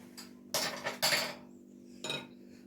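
A spoon stirs egg and yogurt together in a bowl for spinach börek, giving three short clinking, scraping bursts against the bowl with brief pauses between them, close and fairly quiet.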